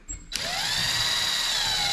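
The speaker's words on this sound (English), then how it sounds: "I'm just going to agitate this a little with the drill brush." A drill-driven scrubbing brush agitates the carpeted floor of a single-cab dually truck, spinning up after a brief pause into a loud, steady whine with a rising pitch that holds alone to the end.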